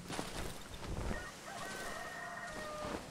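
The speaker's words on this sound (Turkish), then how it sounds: "Horoz ötüyor lan." A rooster in the video game Darkwood crows in a long, sustained call over a dense, noisy rumbling background, moderately faint and drawn out across several seconds.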